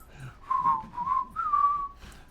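A person whistles a tune of sustained, sliding notes in several short phrases, close and clear, with no voices alongside.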